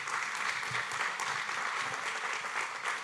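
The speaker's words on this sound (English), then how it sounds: "If we could give them a round of applause." At a Driver of the Year awards dinner, the audience applauds Chef Michael Hurst and his Iowa Central catering team, a steady full round of clapping throughout.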